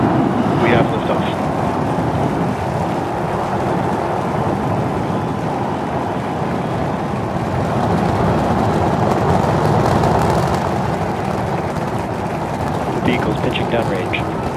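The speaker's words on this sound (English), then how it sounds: "We have liftoff." SpaceX Starship Flight 7 lifting off, its engines making a dense, continuous broadband roar that stays loud and steady throughout, with a voice talking over it.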